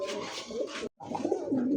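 A female pigeon coos from a cage, a few close, low throaty calls broken by a brief pause, steady and fairly loud.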